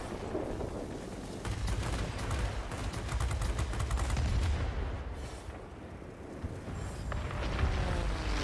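Aircraft guns rattle in rapid bursts in World of Warplanes, with the Bf 109 K-6 fighter firing amid a steady engine drone; the loud, dense volleys come close, then ease as the engine carries on.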